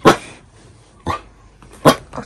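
Three separate dog barks ring out about a second apart, loud and close, with quiet gaps between them and no talking.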